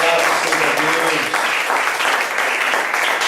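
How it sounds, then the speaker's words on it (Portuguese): A church congregation claps together in praise, a dense, loud, steady round of applause with a voice faintly audible underneath at the start. "Aplauda Jesus"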